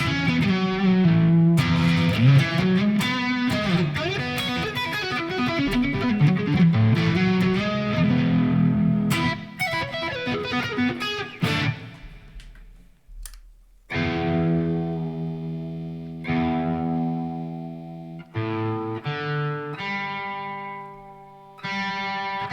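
Electric guitar with P90 pickups playing a busy distorted riff, then ringing cleaner chords with sustained notes and brief pauses, loud and upfront with some effects.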